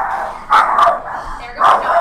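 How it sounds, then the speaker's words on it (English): Several dogs bark at an arriving delivery in a home, a few sharp barks in two quick clusters over a steady background, fairly close and loud. "there goes the dogs. Apparently we're getting a delivery."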